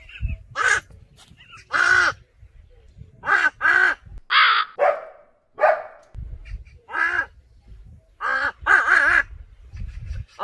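Harsh crow caws sound outdoors in a mountain wilderness, partly voiced by a man imitating crows to call them. Loud, close, repeated bursts come singly and in quick pairs, with short silences between them.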